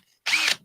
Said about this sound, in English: I got to drill holes into these.